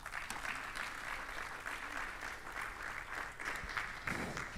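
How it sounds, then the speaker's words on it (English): An audience applauds Nancy Sumari, founder of Jenga Hub, at an innovation week event in Tanzania. The clapping is steady and dense and fills the whole stretch at a fairly even level. "Another hand of applause to Nancy Sumari, founder at Jenga Hub"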